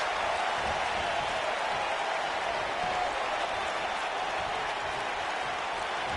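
Steady, dense crowd roar and applause from a wrestling video game during a Falls Count Anywhere match, filling the whole stretch evenly at moderate loudness with no pauses.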